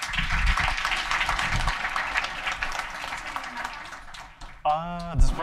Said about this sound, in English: Round of applause for Matt, please.